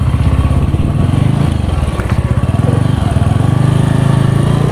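A Honda Win motorcycle fitted with a swapped-in Honda Grand engine runs close by, its loud, rapid, even single-cylinder putter holding steady throughout with faint talk underneath.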